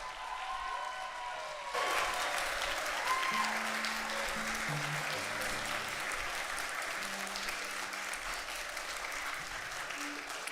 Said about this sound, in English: I want a round of applause for these teachers